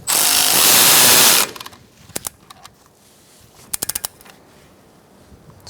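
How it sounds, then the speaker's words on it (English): Power tool whirring for about a second and a half while a brake hose bolt is tightened on a 2014-2019 Kia Soul, followed by scattered metallic clicks and clanks of tools as the bolt is snugged up. "Tighten down your bolt."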